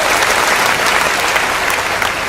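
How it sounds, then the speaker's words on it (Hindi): Steady, loud applause from a Hindi poetry recital audience fills the hall, many hands clapping continuously from start to finish. "आगे से पीछे तक के लोग एक बार तालियां बजाकर बताएं।"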